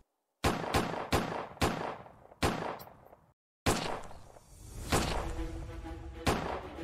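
Video game gunfire from an animated cartoon-style shooter: five sharp, loud shots in an uneven rhythm, then after a brief gap a denser burst of firing with ringing tails and scattered impacts, fairly close.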